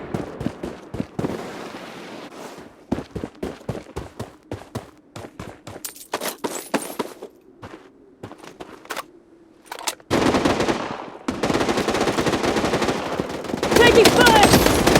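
Automatic gunfire from an M4 rifle in the shooter game Project Bloodstrike, with sharp rapid bursts and single shots in quick clusters, loud and near, later dense sustained fire.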